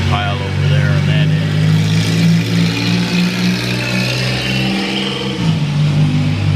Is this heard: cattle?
no